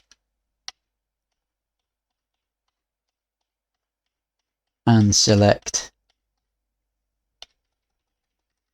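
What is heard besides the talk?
computer keyboard keys pressed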